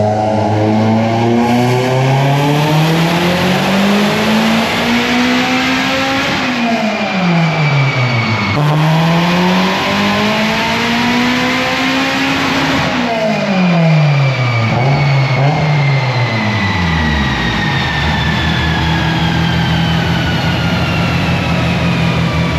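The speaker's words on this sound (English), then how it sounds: "Time for some wide open throttle." A Mitsubishi Evolution 8 engine at wide open throttle on a dyno, loud and continuous, its pitch climbing through repeated rising sweeps with brief dips between pulls before winding down at the end.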